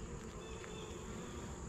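Honey bees at an open horizontal hive fill the air with a steady, dense buzzing hum from many insects close by, continuous throughout with no voices.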